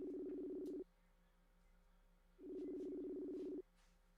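Phone tones sound as an outgoing call is placed: two long, buzzy, even tones separated by about a second and a half of quiet, with no talking.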